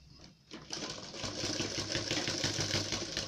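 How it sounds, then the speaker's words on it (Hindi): A sewing machine stitching a fabric neck piece runs in a fast, steady mechanical whir with a rhythmic needle clatter, close and moderately loud, starting after a brief quiet moment. "इसको भी सिलाई लगाकर इसको बंद कर देंगे ऐसे।"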